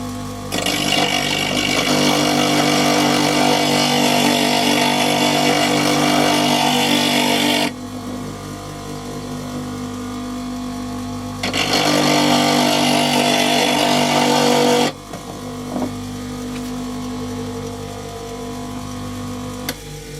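Bench grinder sharpening a woodturning chisel, a loud steady whirring grind in two long bursts separated by the quieter hum of the wheel running free.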